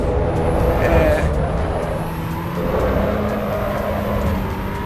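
Drift car engine in the racing game Assetto Corsa Evo, a steady loud drone with shifting pitch that holds throughout, set up with heavy understeer, with someone talking over it.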